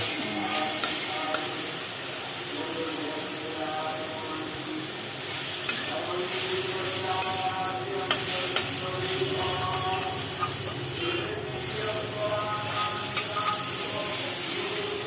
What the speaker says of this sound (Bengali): এইবার একটু ভাজি ভাজি শুকনো শুকনো করে নামিয়ে নেওয়া